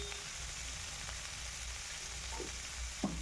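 Figs and potatoes sautéing in a pan, a soft, steady sizzle with faint occasional stirring knocks, quiet and close throughout.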